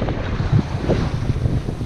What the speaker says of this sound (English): she's a little bit choppy out here, short little waves